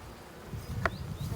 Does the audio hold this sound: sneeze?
no